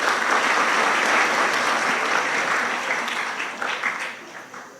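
An audience clapping at a religious discourse, a dense burst of applause that holds steady, then thins into scattered claps and fades.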